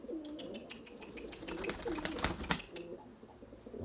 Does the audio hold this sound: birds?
yes